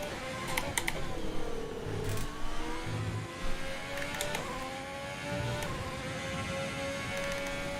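A Formula 1 car in the F1 2020 racing game, a Ferrari in wet-dry Canadian qualifying, accelerates down a straight with a high rising engine whine climbing through the gears, loud and continuous.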